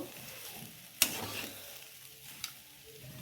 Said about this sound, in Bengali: আলুর পুরটা দশ মিনিট কষে নেব